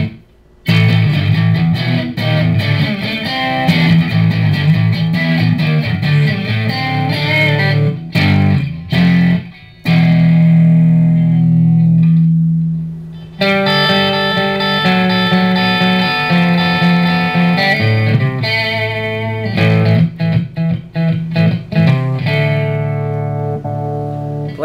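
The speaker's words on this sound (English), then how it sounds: "This is the Plexi that some people were asking for." An electric guitar plays through a Marshall Code 50 amp on its Plexi setting, pushed hard with guitar volume at 8. Loud, driven chords and riffs ring close with a few brief stops.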